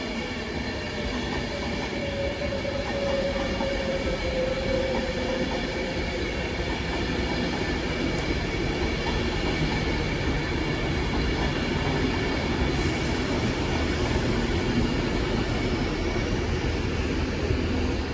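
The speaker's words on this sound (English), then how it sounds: "here comes the 1209 Avanti West Coast service to Edinburgh from London Euston" An Avanti West Coast passenger train to Edinburgh arrives at Lancaster station. A continuous rumble and rattle of wheels and carriages fills the station, with a brief squeal from the wheels. No one speaks.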